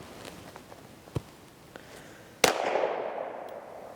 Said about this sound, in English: We're going to do the accuracy test, shoot it at the target, see how we're doing